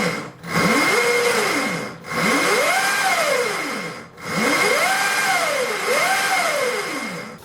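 A Tribo 1060W 36V electric pocket bike motor runs on test, winding up and down in three or four repeated whining sweeps that rise and fall in pitch, loud and close, with brief drops between bursts and no talk.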